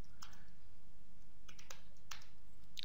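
Someone types code on a computer keyboard, with a scatter of light, quick key clicks over a steady background hum. No one speaks.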